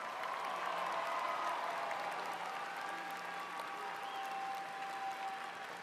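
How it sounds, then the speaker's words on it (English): A high school commencement audience applauds its graduating class, a continuous, even wash of clapping heard from some distance, faint and steady throughout with a few thin tonal touches above it. "let's give these students a round of applause"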